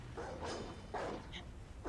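A dog in the video game Assassin's Creed Odyssey gives a couple of short barks and whimpers, fairly close, over a busy layer of game sound.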